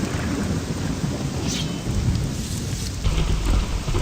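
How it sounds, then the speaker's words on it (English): Steady heavy rain pours with low rolling thunder rumbling throughout, a continuous dense storm wash in The Elder Scrolls game world, with no voices. "Well, it's raining."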